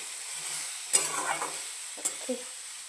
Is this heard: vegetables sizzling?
yes